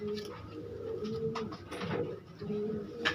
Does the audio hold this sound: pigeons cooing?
yes